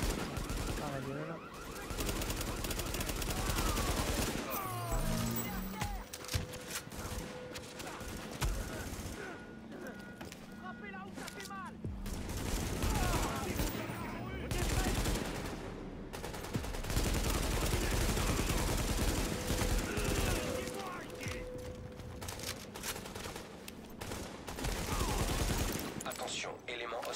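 Sustained enemy gunfire rattles around a supply point in The Division, bursts of shots recurring throughout under frequent talking, with brief mechanical noises and bird-like chirps mixed into the busy game soundscape.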